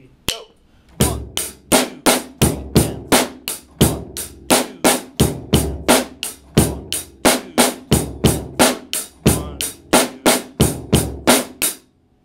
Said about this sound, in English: pretty much all of these next four rock beats are going to be the hi-hat plays eighth notes